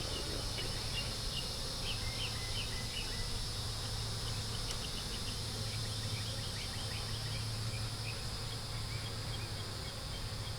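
Honey bees humming around a nuc hive, a continuous low buzz of many insects with faint overlapping drones, steady and moderately distant throughout.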